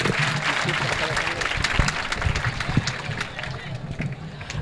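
An audience claps loudly and steadily at an educational guidance camp at Malanggad, with dense, sustained applause and some crowd noise running through the whole stretch.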